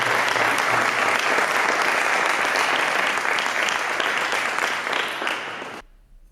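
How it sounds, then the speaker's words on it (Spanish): An audience at a talk on sports nutrition in Tineo applauds for a guest. Dense, loud clapping fills the room for about six seconds, then fades and cuts off sharply into quiet. "Pues os pido un fuerte aplauso para Luis Pasamontes"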